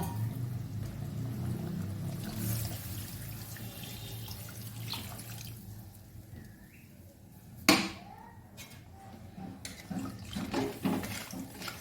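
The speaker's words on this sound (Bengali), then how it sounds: "আর একটু জল দেবো।" Water poured into a simmering cauliflower and potato curry for koi fish, after a mixer-ground spice paste: a steady, moderately loud gush and splash that settles into quieter trickling, with a sharp clatter near the end.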